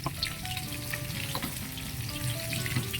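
Vegetables sauté in a hot pan with a loud, steady crackling sizzle and occasional stirring clinks. The sound is close and continuous, with no voices.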